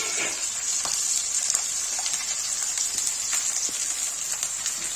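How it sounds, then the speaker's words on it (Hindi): Chopped onions hit hot oil in a pan for a chana do pyaza, giving a steady, close hiss and sizzle with faint crackles and no talking. "प्याज को हम तेल में डालेंगे।"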